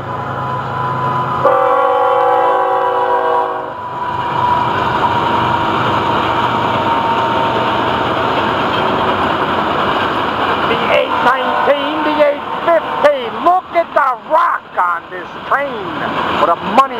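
A Florida East Coast Railway freight train's horn blares near the start, followed by the steady rumble and clatter of the train passing close by, growing choppier toward the end.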